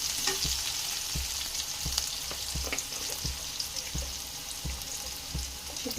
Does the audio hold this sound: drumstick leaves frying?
yes